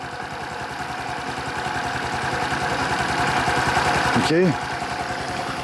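A Honda DAX 125cc motorcycle engine idles close by with a steady, even, rapid thumping pulse throughout. A brief spoken word sits over it near the end.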